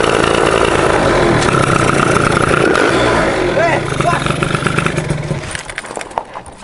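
A motorcycle engine runs close by, a loud continuous rough drone that drops in level partway through and turns uneven and sputtering toward the end, with people talking over it.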